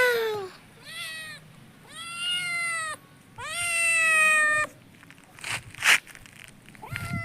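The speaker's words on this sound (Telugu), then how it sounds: "ఇక్కడ చూడు మన పిల్లులు." Cats meowing loudly and close by, a run of long drawn-out meows one after another with short pauses between, followed by a few softer rustling sounds.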